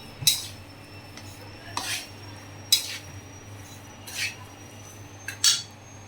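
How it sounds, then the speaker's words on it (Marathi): A metal spoon stirring roasted besan with milk in a pan, with a handful of scattered scrapes and clinks at an uneven pace, fairly quiet and close over a faint background hum. "आता हे 5 मिनिटं अजून परतूया।"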